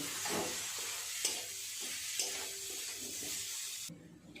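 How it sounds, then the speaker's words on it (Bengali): Grated coconut and jaggery being stirred in a pan for gokul pithe, a steady close scraping with a soft sizzle beneath and a few sharper knocks of the spoon, without speech. "নারকেলের মধ্যে দিয়ে দেব পরিমাণ মতো গুড়। নেড়ে চেড়ে খুব ভালোভাবে নারকেলের পাকটাকে বানিয়ে নেব।"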